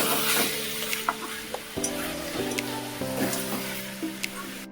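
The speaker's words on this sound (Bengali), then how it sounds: "মা আজকে মাংস রান্না করছে" Meat cooking in a pan in a home kitchen on a Sunday, giving a continuous sizzling hiss with occasional stirring knocks, close and fairly loud beneath steady background music.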